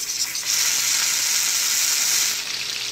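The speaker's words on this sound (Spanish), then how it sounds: "Ahora ya las vamos a pasar al sartén para sellarlas. Miren, aquí tengo ya el aceite caliente." Pork ribs sear in hot oil in a frying pan with a loud, continuous hissing sizzle that swells after a brief start and holds steady.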